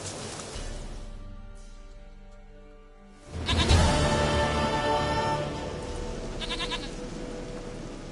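A goat bleats in a video game, a few bleats ringing out loud and near over a quiet game background, with a sustained burst in the middle and shorter calls toward the end.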